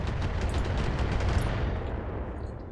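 A thumper cannon firing at a building in the mech game Battletech, heard as a dense, continuous rumbling roar of heavy artillery that slowly fades, with no voices over it.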